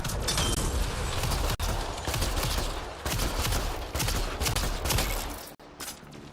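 Sustained submachine gun fire in Mass Effect: Andromeda, loud rapid bursts nearly continuous across the whole stretch with brief gaps, crackling over a dense battle din.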